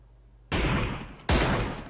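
Gunfire in an online shooter played by a duo, two sharp loud bursts of shots, the second starting about a second after the first, each ringing off briefly.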